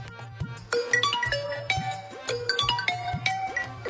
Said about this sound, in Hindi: ओए, सुनो मोबाइल की घंटी फिर बज रही है।